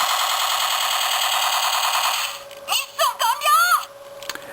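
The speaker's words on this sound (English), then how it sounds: "these are the cannons that are firing from here" Rapid mechanical rattling of a Super Sentai Go-Onger Toripter and Jettoras toy's cannons firing runs steadily, then breaks off into a few short electronic chirps and warbling tones.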